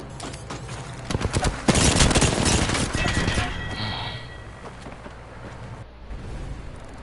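Rapid gunfire in the video game Apex Legends bursts out in a dense, loud volley after a few lighter shots, then trails off into quieter game ambience.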